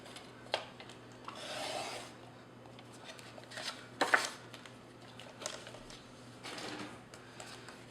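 Scissors snip and rasp through a paper greeting card in a quiet room, several short cuts and rubbing sounds spaced irregularly, close and soft.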